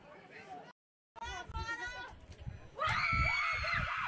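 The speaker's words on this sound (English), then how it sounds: "The laughter and screams coming from our sides." Women spectators at a football quarter-final in Nagaland scream and laugh loudly from the stands, their shrill excited voices rising into a sustained burst of cheering near the end.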